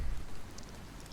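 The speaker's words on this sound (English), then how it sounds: "Do you see a raindrop falling towards the earth?" Rain falls in a steady, soft, even hiss with faint scattered droplet taps and no voices.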